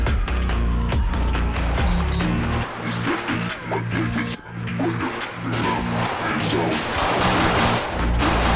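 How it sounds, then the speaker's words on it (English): Gunshots on civilians in GTA 5 with the LSPDFR mod, a busy market attack: sharp repeated shots and bursts over a steady low engine-like hum, loud and close. "There's going to be active shots fired, shots fired."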